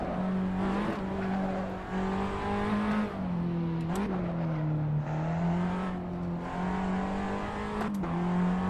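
A manual car's engine in the Assetto Corsa racing game at the Nürburgring, a steady loud droning rev that rises and falls through gear changes, with brief dips and clicks at each shift, continuous and close throughout.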